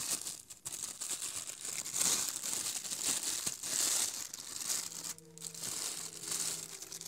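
Small plastic sachets from inside the ghost trap of a Hasbro Ghostbusters Proton Pack are unwrapped up close, with continuous crinkling and rustling of plastic and a brief pause near the start.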